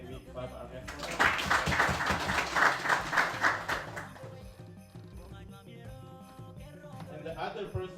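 Audience at a book launch clapping hands, a burst of dense applause that builds and then fades over several seconds, heard indoors alongside some murmuring and background voices.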